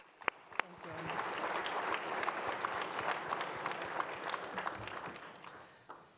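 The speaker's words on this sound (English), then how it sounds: "please join me in giving these remarkable performers, Sean Smith and Cleena Fields, a well deserved round of applause" Audience applause for the musicians Sean Smith and Cleena Fields at a Boston Irish honors event, a dense steady round of clapping lasting several seconds with a few sharp louder claps near the start, tapering off at the end.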